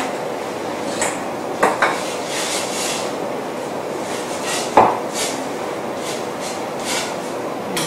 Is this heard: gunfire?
no